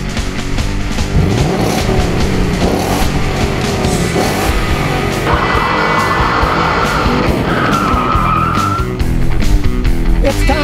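Racing car engines rev and roar loudly up close, with rising pitched whines, skidding tire squeals and repeated throttle bursts piling into a busy motorsport mix that runs throughout.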